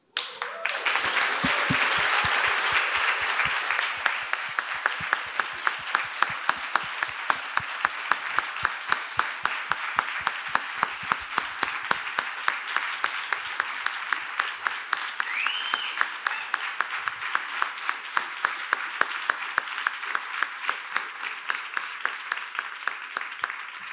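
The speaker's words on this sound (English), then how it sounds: "please join me in thanking Tristan Harris and the Center for Humane Technology" An audience at a New York talk applauds at length, dense steady clapping filling the room with sharp individual claps standing out, gradually thinning toward the end.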